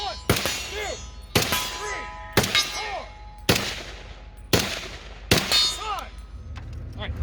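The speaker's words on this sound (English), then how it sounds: "try to get 5 hits as you're driving backwards on a piece of steel at about 50 yards" Five M1 Garand rifle shots ring out on a steel target at about 50 yards in a classic-division match, each sharp crack followed by a bright metallic clang, spaced roughly a second apart.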